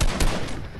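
Gunfire in a mech-combat video game, two quick close shots in under a second followed by a fading rumble, no voices.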